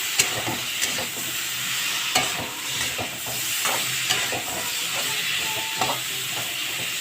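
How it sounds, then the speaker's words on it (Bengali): Sliced bitter gourd fries in a pan with spices, a steady sizzle broken by repeated scraping and stirring strokes, close and continuous with no talking. "উচ্ছেটা দিয়েও আমি বেশ একটু কষিয়ে নিলাম"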